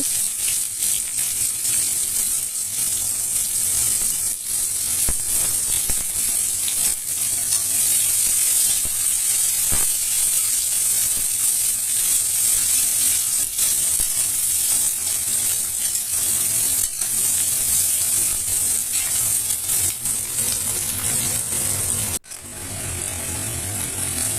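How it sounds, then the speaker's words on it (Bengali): Chopped onion frying in mustard oil with whole spices including cumin, a loud continuous sizzle with scraping clicks running steadily throughout, no talk, briefly dropping near the end. "পেঁয়াজটাকেও লাল করে ভেজে নিচ্ছি"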